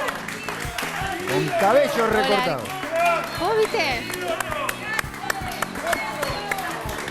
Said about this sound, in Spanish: fuerte el aplauso de toda la teleaudiencia para Rudolf.